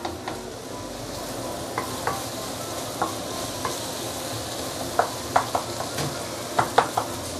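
Garlic and onion frying in oil over medium heat for Muar-style assam fish, a steady close sizzle with light stirring scrapes and ticks building toward the end.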